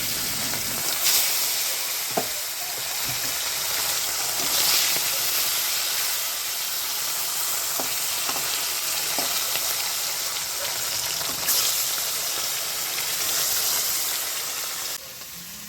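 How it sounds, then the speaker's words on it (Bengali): Onion and potato fry in oil in a wok: a continuous, close hiss and sizzle with occasional light clinks of stirring, steady throughout with no talking. "আর একটা কড়াইতে আমি পেঁয়াজ কালি আর আলু ভেজে নিচ্ছি।"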